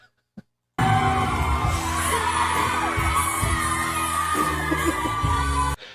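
A studio audience screams and yells loudly and continuously at a Filipino TV show, a dense crowd roar that bursts in abruptly after a short quiet start with a few thuds underneath, then cuts off at the end.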